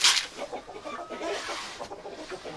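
Frightened ducks, freshly unloaded after a short-distance transport, give agitated calls in uneven bursts close by, with a louder flurry at the start and no talking.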